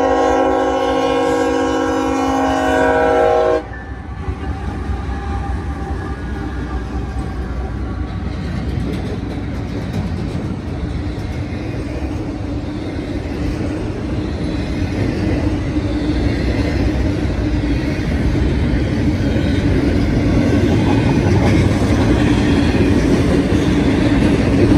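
A long CSX freight train, rerouted over Norfolk Southern track after a derailment, rumbles past steadily and loudly, opening with a blaring horn blast before the continuous roar and rattle of rolling cars.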